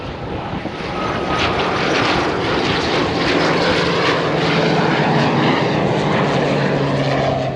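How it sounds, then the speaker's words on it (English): Military-style planes and jets fly low overhead near an airfield during landing and takeoff practice, a loud broad roar of aircraft engines that swells and sustains with no talk over it. "I've seen at least 4 different kinds of planes, 2 different kinds of jets, just screaming overhead, practicing landing, taking off, circling around."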